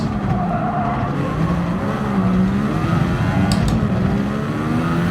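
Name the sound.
race cars driving and revving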